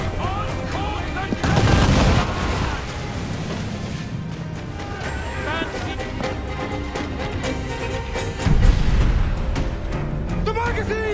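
Ship cannons in a naval battle in Assassin's Creed IV Black Flag fire in two heavy booming volleys, one early and one late, over a constant roar of battle noise and music, with shouted game dialogue throughout.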